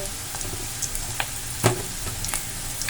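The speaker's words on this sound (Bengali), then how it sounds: "একটু সোনালি করে পেঁয়াজগুলো ভেজে নিতে হবে।" Sliced onions fry in a pan with green chilli, turmeric powder and salt as they turn golden, a steady close sizzle broken by a few sharp scraping stirs.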